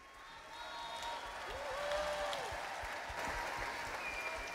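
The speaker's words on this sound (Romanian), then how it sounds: "Aplauze speciale pentru corul mixt." An audience at an outdoor symphonic concert in a park applauds a mixed choir with a sustained wash of clapping that stays faint and distant.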